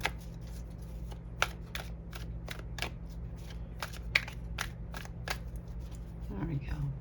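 Cards being shuffled for a spiritual reading, with a quick series of sharp, close card snaps in a loose rhythm over a low steady hum.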